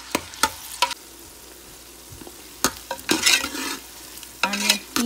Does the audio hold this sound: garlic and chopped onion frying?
yes